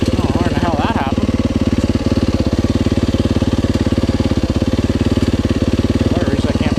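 Motorcycle engine idling close by with a steady, fast putter while the rider struggles to find neutral; someone speaks briefly over the engine.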